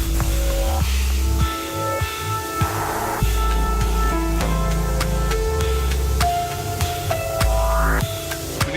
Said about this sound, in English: After an hour of spraying,